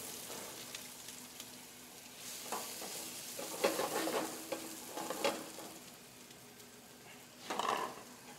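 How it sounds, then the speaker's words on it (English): Apple pieces sizzling in hot oil in a sauté pan, a steady crackling hiss with occasional louder bursts of spitting and stirring, close and without any talk. "we're going to let the apple cook a little bit"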